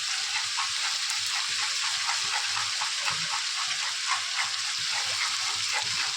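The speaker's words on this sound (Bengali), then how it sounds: "এবার ডিমটা এখানটায় একটু এরকমভাবে নাড়তে থাকবো, নাড়তে নাড়তে ডিমটা দেখবে হয়ে আসবে।" Egg scrambling in a hot pan for vegetable chow mein, a continuous soft frying sizzle broken by rapid, regular spatula strokes, close and fairly quiet.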